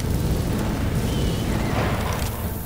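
Molotov fire in Left 4 Dead 2, a steady loud roaring rumble of flames that holds without a break.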